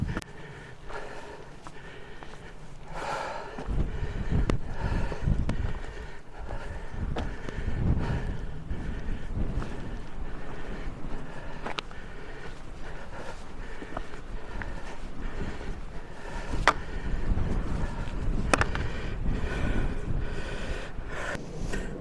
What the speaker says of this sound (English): it's really windy over there